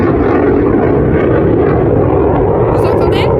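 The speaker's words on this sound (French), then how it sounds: "Écoutez le bruit des avions." Military airplanes pass overhead near the Grand Canyon, a loud, steady engine roar that fills the whole stretch, with a brief higher whine near the end.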